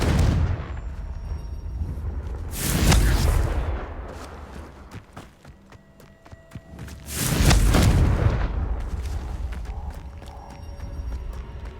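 Two heavy blasting-curse explosions from a Harry Potter video game, each a loud broadband boom with a rumbling tail, spaced about five seconds apart over a low game background.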